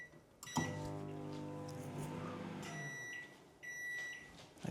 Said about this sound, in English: we just chuck it in the microwave for 30 seconds